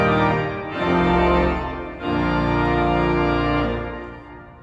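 Saint Andrew the Apostle Catholic Church pipe organ on full swell with all stops drawn: a loud, rich sustained chord, then a brief dip and a second full chord held to the end before fading.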